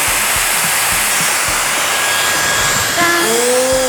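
A Shapl hair styler, compared against a Dyson Airwrap, blows a loud, steady rush of air close by, with faint thumps underneath and a rising whine-like tone entering near the end.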